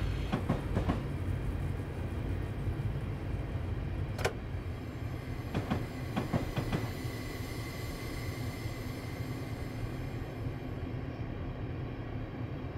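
A New Jersey Transit train runs in Train Simulator on a line with an NS GP38 locomotive, a continuous low rumble of rolling stock with a few sharp clicks early on, steady and moderately loud throughout.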